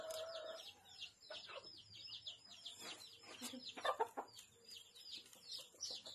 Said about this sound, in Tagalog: Yung manok, pinakain yung hinog.